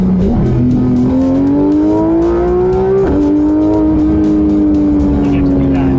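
Porsche GT3 RS engine revving hard and climbing in pitch, then dropping briefly as it shifts up a gear and pulling again, loud and close from inside the car.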